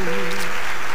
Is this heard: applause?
yes